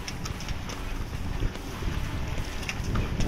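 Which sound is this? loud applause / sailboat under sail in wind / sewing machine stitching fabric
sailboat under sail in wind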